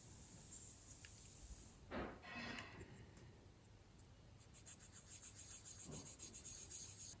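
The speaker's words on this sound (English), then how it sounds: "And then, as usual, the sanding." Fine 1200-grit sandpaper rubbing on a small plastic part of a 1/200 scale IJN Mikasa battleship model, a faint, steady scratchy rasp with quiet repeated strokes heard close and alone.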